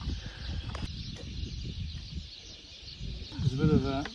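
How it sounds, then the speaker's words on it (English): Birds call at a desert oasis in the Sahara in Tunisia, with short chirps and a brief rising warble near the end over a low, rumbling outdoor background. "You hear all the birds here at the oasis."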